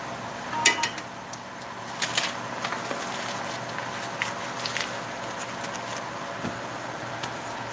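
Sauerbraten gravy with bacon fat being stirred in a pot, with soft scraping and clinks of a utensil against the pot, a few sharper knocks early on, over a steady quiet kitchen background.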